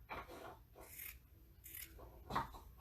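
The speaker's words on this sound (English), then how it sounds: "I'm going to cut that" Scissors snip through material to cut a 1-inch strip for a Dollar Tree farmhouse Easter craft, a few short rasping cuts up close with no voices.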